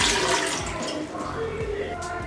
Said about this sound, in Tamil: இது கூட ஒரு கிளாஸ் தண்ணி ஆட் பண்ணிக்கோங்க.